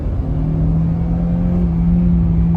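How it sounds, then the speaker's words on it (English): A Kia Carens with a 1.5 turbo engine and iMT gearbox pulls hard, giving a loud, close, steady engine drone with a strong low hum and an even rumble throughout. "it's got that sporty element going on with this particular turbo engine"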